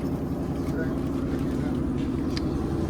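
Steady low drone of a shuttle boat motor running continuously in Martinique, with water and wind noise layered over the engine hum.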